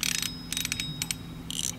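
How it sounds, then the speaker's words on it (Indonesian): Loud ratcheting clicks from the drag of a budget spinning reel with two line-roller bearings and one main bearing, coming in several quick bursts separated by short pauses. "Ini bunyi dragnya seperti ini."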